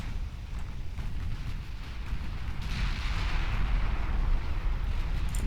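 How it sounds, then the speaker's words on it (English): An ammunition detonation on a warship in the naval game Ultimate Admiral Dreadnoughts: a heavy, sustained low rumbling blast that swells louder toward the end, with no voices. "Another ammo detonation."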